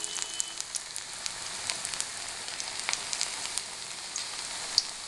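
Spring onion piaji fries gently in oil over low heat, a faint, even crackling sizzle with scattered small pops running steadily throughout, no voices.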